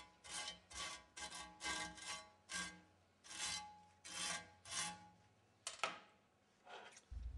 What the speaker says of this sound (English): give it a good scrub over with a wire brush to remove any dirt and/or grass